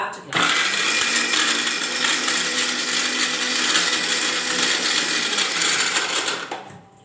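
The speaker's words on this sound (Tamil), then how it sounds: "மிக்சி ஜாரில் இப்ப இதை வந்து நம்ம அரைச்சிக்கலாம்" A kitchen mixer grinder whirs loudly as it grinds coconut, poppy seeds and tamarind in its jar, a steady harsh motor roar that starts abruptly and winds down at the end.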